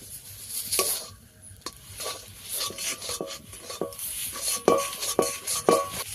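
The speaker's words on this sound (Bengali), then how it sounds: "একটু চিনি দিয়ে দেব। ভালো করে একটু ভেজে নেব।" Kachori filling with salt and sugar frying in a pan, spatula scraping and stirring in repeated strokes over a steady close sizzle, with occasional metallic clinks.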